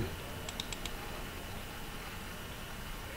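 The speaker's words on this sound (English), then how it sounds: "just double click on the little BlueJay icon" A computer mouse clicking in a quick run of four small, crisp ticks near the start, faint and close over a steady background hiss, then nothing but the hiss.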